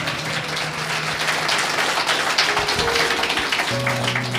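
Church congregation applauding for Christ Jesus during a worship service, a steady dense wash of clapping throughout with a few sustained tones of music or voices underneath.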